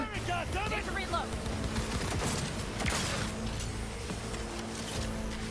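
Rapid automatic gunfire from a Cyberpunk 2077 firefight crackles steadily at middle distance under talking voices, with dense bursts and a few louder shots standing out.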